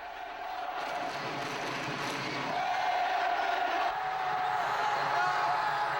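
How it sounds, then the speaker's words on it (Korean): A crowd cheering and shouting in a stadium's supporters' section, a continuous roar of many voices with a swell in loudness midway, sustained and fairly loud. "승리의 함성으로 뜨거웠던 그해 2월."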